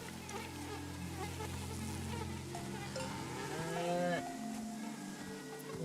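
Cows moo in the video game SEASON: A letter to the future, with long low calls over clanking cowbells and the steady buzz of flies in a quiet outdoor scene.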